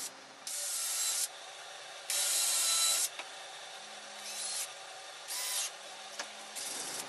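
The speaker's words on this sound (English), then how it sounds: "I secure it permanently to the base with some screws" Power screws are driven to fix a wooden runner to the base of a strip-cutting sled for kumiko work, giving several separate bursts of steady whirring with pauses between them and no talking.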